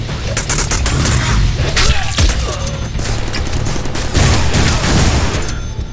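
Rapid bursts of gunfire from the Deadpool PC video game, dense overlapping shots and booms in a sustained loud fusillade with no pauses.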